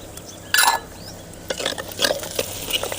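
Cumin seeds crackling in hot oil with reddened onions in a pan for a traditional Tamil keerai kulambu, a brief stir-and-sizzle burst followed by scattered soft pops and light spoon scrapes, close and fairly quiet.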